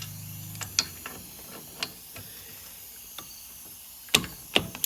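A wrench ratchets on 14 mm caliper bolts on a Buick Enclave's rear brakes, giving sharp, irregular metallic clicks and ticks spaced through a quiet garage, a cluster near the end.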